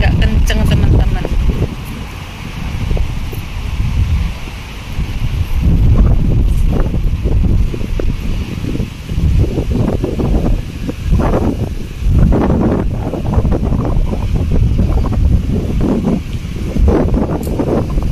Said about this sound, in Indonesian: Anginnya agak kenceng teman-teman